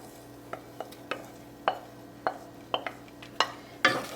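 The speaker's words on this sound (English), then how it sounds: "we're gonna stir this quickly and let it cook until the raw flavor gone from the flour" A flour roux for a cheese soufflé being stirred in a pan: a close, irregular run of about eight sharp scraping taps of the utensil against the pan over a faint steady sizzle, with no talking.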